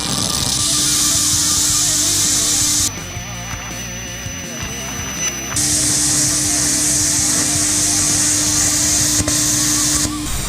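A plasma cutter cuts radiuses in metal plate with a loud, steady hissing roar and a constant whine, stopping briefly partway through before resuming.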